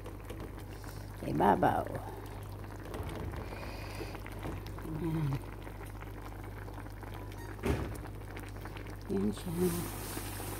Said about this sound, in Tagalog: Ito na po, kumukulo na siya